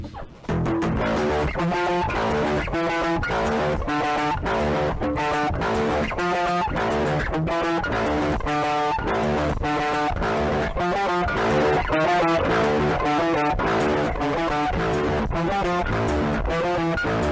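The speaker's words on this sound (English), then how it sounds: "I want to kick in this distortion already." Electric guitar played through a Joyo distortion pedal, heavily overdriven chords struck in a steady repeating rhythm, loud and sustained throughout with no talking.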